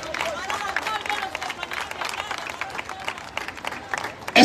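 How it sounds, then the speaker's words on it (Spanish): Steady applause and cheering rise from a crowd at a political rally for comrades, with voices and babble mixed through the clapping and a loud burst at the very end. "Vamos a darle un aplauso a los compañeros"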